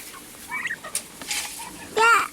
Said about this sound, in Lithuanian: Čia kalakutai.